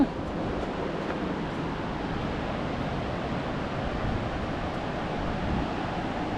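A waterfall in Slovenia gives off a constant, even roar of rushing water that holds steady throughout, with no talking over it.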